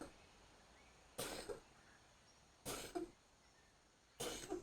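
A pet cat coughs up a hairball, three short raspy hacking fits spaced a second or so apart, faint, with a low room hum running underneath.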